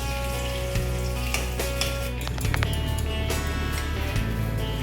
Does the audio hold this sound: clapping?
no